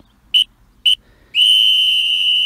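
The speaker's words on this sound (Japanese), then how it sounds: "ホイッスルです" Referee whistle in the Calciobit A soccer video game: two short, sharp blasts, then one long sustained blast, clear and alone against near silence.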